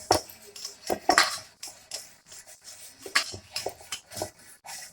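Steamed momo dumplings set one by one onto an oiled metal plate, giving light, scattered clinks and soft taps at an irregular pace, close and fairly quiet.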